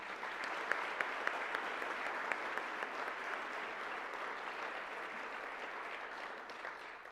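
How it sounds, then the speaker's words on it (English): A banquet hall audience at an honors banquet applauding finalists, steady sustained clapping from many hands at moderate distance, evenly textured and tapering slightly near the end. "Would you all please join me in giving a round of applause for all of our finalists?"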